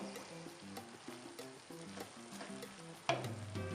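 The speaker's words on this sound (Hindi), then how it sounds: "थोड़ी देर मज़ीद पकाएंगे इसे जब तक टमाटर गल नहीं जाते" Minced meat frying in a pan with tomatoes and green chillies for a pea keema, a steady sizzle broken by repeated stirring scrapes, then a louder burst of sizzling near the end, with no voices.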